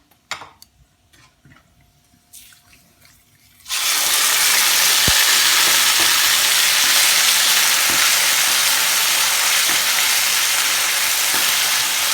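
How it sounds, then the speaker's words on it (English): After a few soft clinks, a loud, dense sizzle erupts as boneless chicken hits a hot pan and keeps frying steadily, with occasional pops. "Once this sizzles, then you have to add your boneless chicken."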